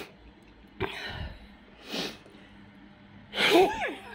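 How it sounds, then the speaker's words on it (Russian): A person sneezes twice, sharp bursts a couple of seconds apart, with a brief gasping breath between, close by in an otherwise quiet indoor room. "Опять чихнул, господи,"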